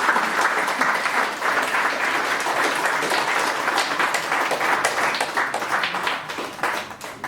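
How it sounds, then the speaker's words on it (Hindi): At a corporate laughter yoga session in India, an audience claps loudly and steadily for over seven seconds, individual hand claps standing out within the continuous applause. "एक बार जोरदार तालियां देने के लिए"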